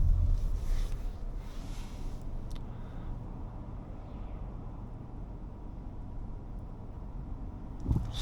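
A 2026 Mazda CX-5 GT on the move, heard from inside the cabin as a steady, moderate road and engine hum with no talking.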